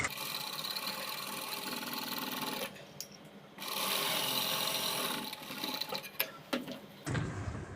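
Sewing machine stitching a garment neckline along a paper pattern, running in steady sustained bursts with brief pauses and a few short stops and clicks near the end, heard alone at moderate level.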